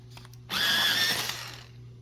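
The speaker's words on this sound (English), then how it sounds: "I'm going to sharpen this one." Coloured pencil with a long oil-based core being sharpened: a close mechanical whir starts abruptly, holds for about a second with a steady high whine, then tapers away over a faint background hum.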